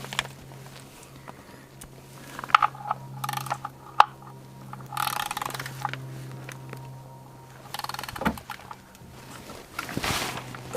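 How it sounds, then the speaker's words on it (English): A ratchet tightens the oil drain plug on a 2013 VW Jetta TDI Sportwagen 2.0 diesel, giving quiet intermittent clicking turns and metallic knocks close by under a low steady hum. "let's get that oil plug tightened down"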